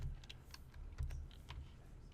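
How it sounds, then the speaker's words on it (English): Faint, sparse keystrokes on a computer keyboard, a handful of soft clicks over low room hum and rumble, no voices. "I'm going to type in Android"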